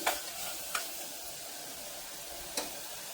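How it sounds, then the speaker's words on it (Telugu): Chopped tomatoes stirred and fried in a pan with masala, a faint steady sizzle broken by a few sharp spoon taps against the pan. "టమాటా వేసాక కూడా ఒక ఐదు నిమిషాలు అలా కలుపుతూ ఫ్రై చేసుకోవాలి"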